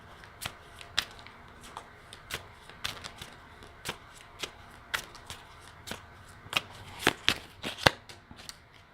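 Playing cards handled during a tarot-style reading, with crisp snaps, flicks and riffles at an irregular rhythm, close and fairly quiet, with faint room noise between the clicks.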